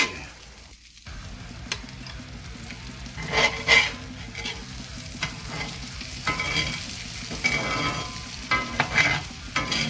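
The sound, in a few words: Cajun salmon searing in a pan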